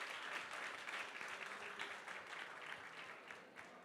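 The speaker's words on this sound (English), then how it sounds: "Give him a round of applause." Applause at a summit for a man who stepped up to the microphone, a soft steady patter of many hands clapping at a distance, fading slightly toward the end, with no talking.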